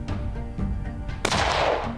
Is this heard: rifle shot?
yes